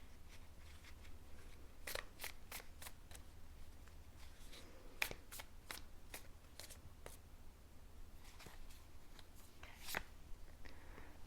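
Tarot cards shuffle quietly in short crisp bursts, a series of faint flicks and snaps near the mic against low background hiss.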